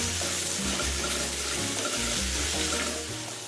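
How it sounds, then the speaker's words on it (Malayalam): Loud, continuous sizzling of tomatoes and onions sautéing in a pan, with stirring scrapes mixed in and no talking. "തക്കാളിയും പച്ചമണം മാറുന്ന വരെ നമുക്കൊന്ന് ഇളക്കി കൊടുക്കാം"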